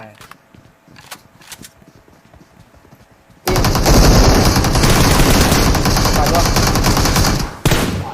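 Gunfire in PUBG Mobile on the Erangel map: a few sharp distant shots under a player's talk, then a sudden loud, sustained crackle of rapid fire lasting several seconds before cutting off.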